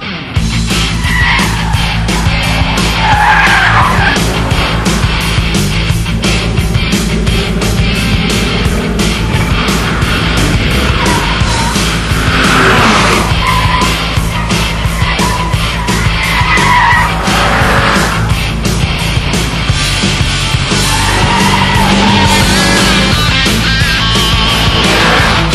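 A Lotus Elise sports car driven hard around a race track, with a loud, continuous engine roar and squealing, skidding tires throughout.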